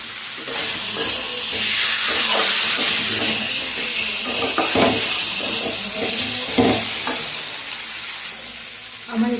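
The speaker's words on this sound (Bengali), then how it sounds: "আবার আমি ভালো করে এটাকে কষিয়ে দেব" Masala for a spicy potato curry sizzles loudly in hot oil, a dense continuous hiss close at hand, broken by repeated dull scrapes and knocks of a spoon stirring the pan.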